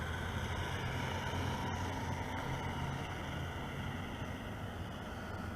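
A Hosim X06 RC car runs at full throttle, a steady, faint motor whine and broadband rush holding evenly throughout, with no voices.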